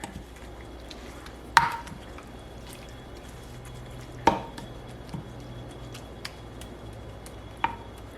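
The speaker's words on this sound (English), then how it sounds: "And then just give a very quick stir" A quick stir of a baked apple cinnamon oatmeal mixture with egg in a dish, heard as three distinct clacks of a spoon against the bowl, spaced a few seconds apart, over a faint soft background of wet mixing.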